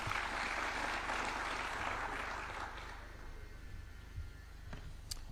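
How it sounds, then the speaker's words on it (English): An audience applauds at the launch of the University of Nairobi Silicon Savannah, attended by President William Ruto. The clapping is dense and steady for about three seconds, then thins and fades to a softer patter. "Let's give them another hand clap."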